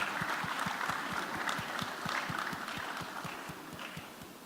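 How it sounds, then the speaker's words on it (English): Audience applause at a data and AI summit in a main hall, a moderate, fairly quiet round of clapping with distinct individual hand claps standing out, gradually tapering toward the end. "Please, a round of applause"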